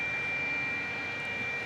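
A Spirit Airlines Airbus A320neo departing at night makes a faint, steady jet roar with a thin high whine, distant and unbroken through the short stretch.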